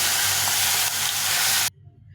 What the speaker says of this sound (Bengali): মাছগুলো ভেজে নিলাম